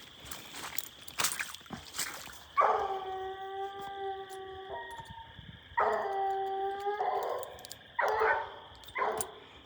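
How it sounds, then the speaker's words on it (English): A hound bays and howls in long drawn-out bursts, several times with short pauses between, loud and fairly close in an outdoor setting. "That's what a 100 strike dog sounds like."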